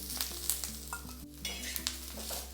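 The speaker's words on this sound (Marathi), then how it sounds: "आता यावर मी एक चमचा तेल घालून घेते" Onion sizzles in oil in a pan while being stirred for a spicy misal recipe, a steady crackling fry with repeated scraping strokes of a spoon against the pan, close and continuous.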